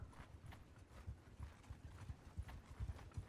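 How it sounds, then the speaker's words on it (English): Steady clip-clop of a Sturgian trotter horse's hooves on hard ground in the video game Mount & Blade II: Bannerlord, a quick even rhythm close by with no voices. "Horses. Sturgian trotter."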